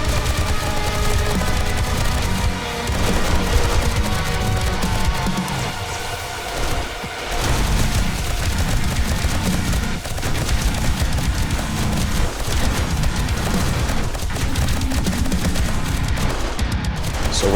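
Automated turrets in a video game hammer away at a zombie horde on warrior difficulty, a dense, continuous barrage of rapid gunfire and booms that stays loud and unbroken throughout.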